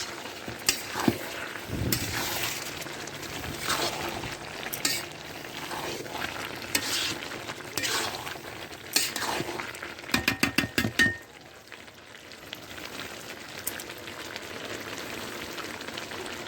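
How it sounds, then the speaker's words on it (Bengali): A spatula stirring shrimp and bottle gourd curry in a sizzling pan with scraping strokes, ending in a burst of rapid taps against the pan, then a quieter simmer. "খুন্তি দিয়ে এভাবে নাড়ি নেবেন, তা না হলে 1 চামচে দেওয়ার পর যদি ঘুঁটে দেন তাহলে কিন্তু দলা বেঁধে যাবে।"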